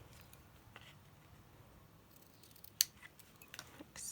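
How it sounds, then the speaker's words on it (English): Sharp fabric scissors cut through craft paper, a few quiet isolated snips and one crisp louder cut late on, set against a faint, mostly still background. "oh, I need my fabric scissors, but I don't think they're up here. There we go, they're sharper."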